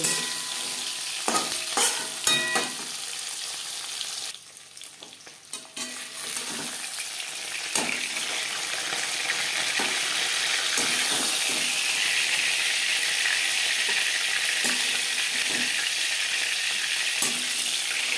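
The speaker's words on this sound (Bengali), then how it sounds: "মাছ ভাজা হয়ে গেছে একটা পাত্রে উঠিয়ে নিলাম" Pieces of shol fish fry in hot oil for a fish curry, a dense continuous sizzle close by with sharp stirring or turning clatters at the start and a brief dip before the frying noise swells and holds steady.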